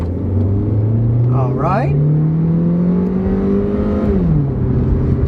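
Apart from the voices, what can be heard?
Hyundai car accelerating hard on a drag strip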